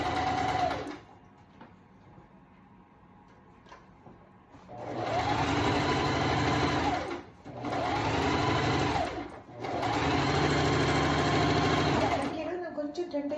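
A sewing machine stitches a fabric seam in three sustained whirring runs separated by short pauses, close and fairly loud, with a quiet stretch at the start.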